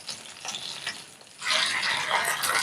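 Fish pieces fry in masala in a pan over a medium flame, a soft crackle that swells into louder, steady sizzling partway through, with no talk.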